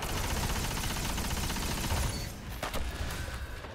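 The Necrochasm exotic auto rifle fires in sustained bursts in Destiny, a dense rattling fusillade that runs loud for a few seconds before thinning into scattered shots.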